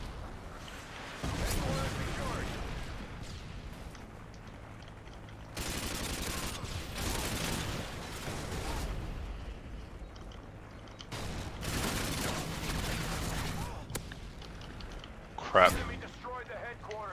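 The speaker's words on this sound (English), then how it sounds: "So many airstrikes and stuff." Airstrikes and gunfire in the video game Call of Duty: Modern Warfare 2, heavy bursts of explosions and shooting booming in waves under a steady game backdrop, with a voice talking between them.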